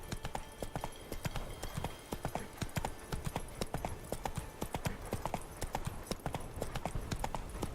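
Hooves of Roach, the horse in The Witcher 3, clip-clopping in a fast, steady galloping rhythm of sharp close taps that continue throughout at moderate volume.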